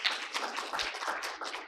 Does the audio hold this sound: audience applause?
yes